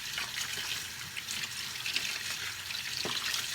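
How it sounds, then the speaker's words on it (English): Cold tap water runs over boneless chicken feet in a sink as they are rinsed, a steady close splashing stream with occasional sloshes as the meat is moved about. "now what I'm gonna do is rinse it cold water."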